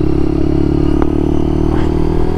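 A Lexmoto LXR 125 SE motorcycle with an unexplained noise runs steadily and loudly up close, a continuous engine drone with a brief click partway through.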